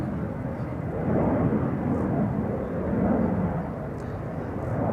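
Play Flight 461 departs Polderbaan runway 36L at Amsterdam Schiphol on a sunny morning, a steady, fairly distant jet roar that swells and eases in broad waves throughout.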